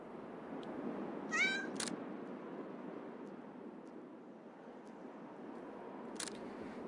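In the horror game Yomawari: Lost in the Dark, a cat gives one short, rising meow near the start. Camera-like clicks follow over a low rumbling ambience.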